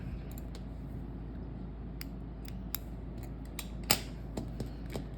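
Scissors snip yarn during crochet of a granny square: a few sharp close clicks and one louder cut stand out in an otherwise quiet room, with no talking.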